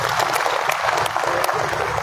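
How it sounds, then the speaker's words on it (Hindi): An outdoor gathering at a market crowded with tractors breaks into applause, dense continuous clapping from many hands, loud and close for the whole stretch. "ताली बजा दो भाई एक बार।"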